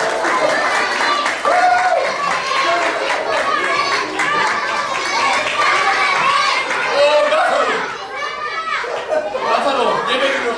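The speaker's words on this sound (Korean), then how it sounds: "왜 박수를 보내주세요?" Children's clapping and lively chatter at a church gathering, a dense burst of applause mixed with kids' voices and crowd noise that fades near the end.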